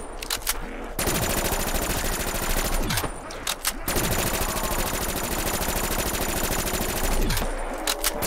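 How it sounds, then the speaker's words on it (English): An automatic gun with heavy recoil fires in long sustained bursts in a zombies game, each burst lasting a couple of seconds with short pauses between, loud and close. "this gun has so much recoil, man. Look at it."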